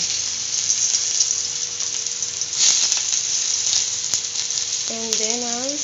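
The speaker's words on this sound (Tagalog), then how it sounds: "Gigisa na po natin ang bawang." Garlic sautéing in a hot pan for sinigang sa miso, a steady close hiss and sizzle throughout, with a brief tonal whine near the end.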